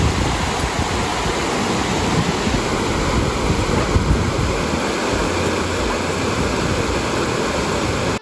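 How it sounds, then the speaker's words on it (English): Narada Falls, a 188-foot waterfall on the Paradise River at Mount Rainier, roars as a steady, dense broadband rush of falling water, close and loud throughout with some wind buffeting the microphone. "Narada Falls is 188 feet tall and flows directly from Paradise River"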